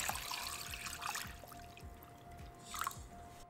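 Water is poured into a pot holding pork, onion, smashed ginger and salt for a Vietnamese pork aspic. It makes a soft, steady trickling and splashing at low volume, with no voices.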